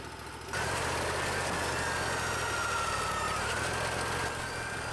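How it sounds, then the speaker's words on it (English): A Wood-Mizer LT40 portable sawmill's engine starts up after a brief quiet moment and runs at a steady, loud drone with a faint rising whine, no voices present. "this is his wood-mizer LT40 sawmill"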